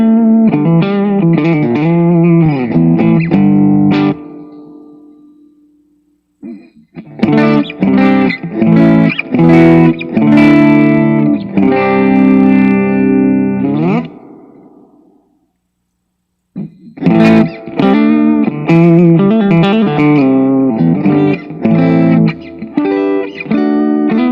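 An electric guitar is played through a Wilson Effects pedal with a clean blend, in three loud sustained phrases of distorted chords and notes separated by short silences.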